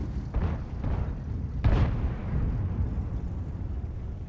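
Artillery shells strike a tank in a video game, producing two muffled booms over a steady low rumble of engine and battlefield noise.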